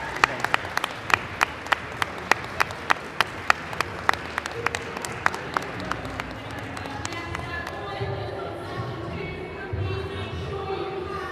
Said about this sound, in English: What were they clapping for?